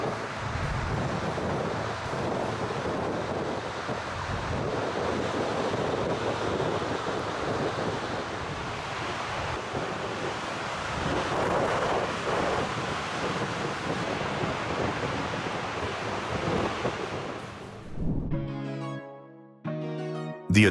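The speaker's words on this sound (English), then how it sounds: "When giant waves crash against a lighthouse like this" Giant ocean waves crash against a lighthouse in a loud, continuous roar of surf and wind buffeting the microphone, with pounding surges throughout before the sound cuts off near the end.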